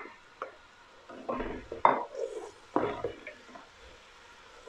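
Spring onions stirred into a pan with fried garlic and leeks, giving soft scraping and stirring bursts with faint low sizzle between them, fairly quiet and close.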